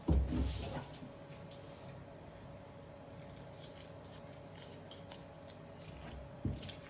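Scissors snipping open Ibumie Mi Goreng Perisa Kari Kapitan sauce packets, faint crinkly cuts and plastic rustling, with a louder handling thump at the start and another near the end.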